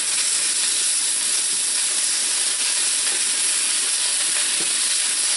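Lamb chops and bacon crumbles sizzling together in a pan, a steady, loud broadband hiss of frying fat that runs unbroken throughout with no voices.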